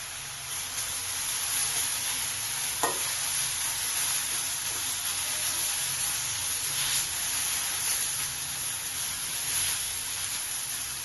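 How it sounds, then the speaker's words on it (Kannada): Curry leaves fry with tomato and onion in a pan for sambar, making a steady, soft hiss and sizzle throughout. A faint clink is heard early on, and no one speaks. "ಕರ್ಬೇವು ಸೊಪ್ಪನ್ನ ಸೇರಿಸ್ಕೊಂಡು ಅದನ್ನು ಕೂಡ ಸ್ವಲ್ಪ ಚೆನ್ನಾಗಿ ಫ್ರೈ ಮಾಡ್ಕೊಳ್ಳಿ"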